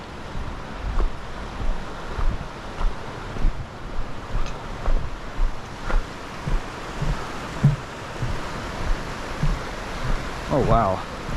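Creek water rushes steadily beneath a bridge on the Denny Creek Trail toward Melakwa Lake, a broad continuous wash with gusty wind buffeting the microphone throughout.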